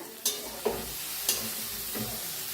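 Cluster beans fry in a pan with a constant sizzle as a spatula stirs them, giving several sharp scraping strokes spaced about half a second apart, close and without talk.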